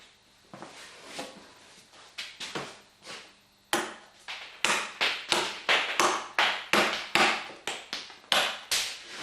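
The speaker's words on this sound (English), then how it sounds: "Knock out the waste in between the pins." Repeated sharp chisel-and-mallet knocks on wood as waste is chopped out between dovetail pins, sparse at first then settling into a steady, close rhythm of strikes.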